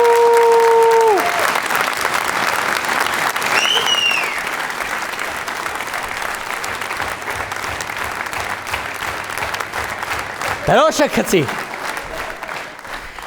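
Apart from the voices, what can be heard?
studio audience applauding loudly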